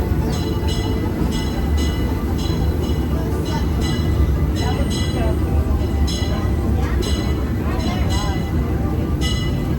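The Disneyland Railroad train rumbles heavily on the rails as it arrives at a station, with rhythmic clicks and clacks from the wheels and a deep, continuous roar close by.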